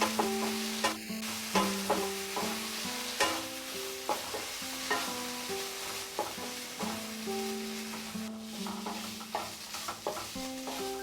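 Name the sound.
stirring mustard, poppy seed and green chilli paste in pan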